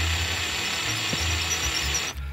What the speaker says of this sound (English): now you want to drive it in just enough to snug it down